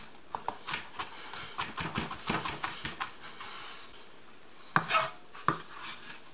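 Knife chopping garlic on a cutting board in a kitchen for a mushroom sauce, a quick run of sharp, close taps in uneven bursts, then a brief pause and a few louder knocks near the end.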